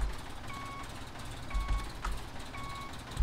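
Reversing beeps from a tractor or truck backing up to hook a trailer in the Farm Expert farming game, three evenly spaced electronic tones at about one-second intervals over a low engine rumble.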